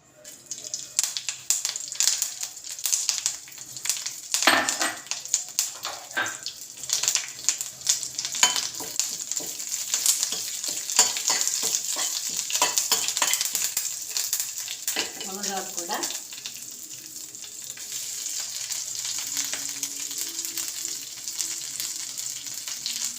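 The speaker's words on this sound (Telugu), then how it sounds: "ఆయిల్ వేసి కప్పు కరివేపాకు ఉంటుంది కదా అది ఫస్ట్ వేసి" A cup of curry leaves crackles and sizzles in hot oil for a drumstick-leaf spice powder, a bright close hiss with sharp pops and a few stirring clatters.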